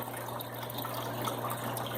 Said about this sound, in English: Put some fresh water in here.